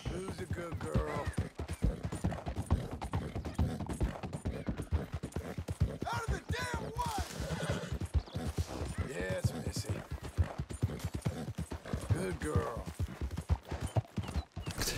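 Horses gallop in Red Dead Redemption 2, rapid steady hoofbeats throughout with occasional neighs, while players talk over the action.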